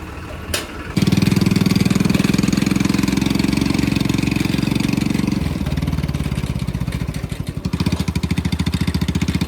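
A diesel tractor engine starts with a sharp clatter, then chugs at a steady idle on a farm, its rhythmic thumping filling the clip.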